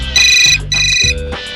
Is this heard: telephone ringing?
yes